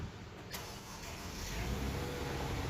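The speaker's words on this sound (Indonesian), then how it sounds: "Dan yuk langsung kita dengerin suara mesin V6-nya." A Mercedes-Benz E240 Avantgarde's V6 engine turns over and catches, settling into a low, steady idle that grows slightly louder, heard from nearby.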